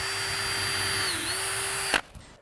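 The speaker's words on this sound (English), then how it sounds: "I have my gear set to number 2 so I can drill that hole." A power drill set to gear two bores a hole in wood with a steady high-pitched motor whine that dips briefly in pitch under load, then cuts off abruptly and leaves faint handling noises.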